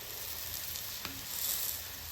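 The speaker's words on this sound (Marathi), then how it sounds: "2 मिनिटं व्यवस्थित असं दाबून दाबून आपल्याला हे भाजून घ्यायचं, जेणेकरून हे आपलं थालीपीठ जे आहे ते क्रिस्पी होईल." Thalipeeth flatbread, a crisp multigrain Maharashtrian flatbread, roasting in a pan over medium heat while being pressed down, giving a steady close sizzle with one brief sharp tap, and no talking.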